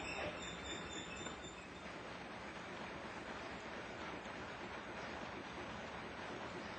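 A steam engine runs steadily, its piston and flywheel producing a loud, continuous churning hiss with no pauses, close by and alone.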